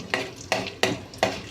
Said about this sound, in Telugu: స్టవ్ పై ప్యాన్ పెట్టుకొని ఆయిల్ వేసుకొని శనగపప్పు, ఆవాలు,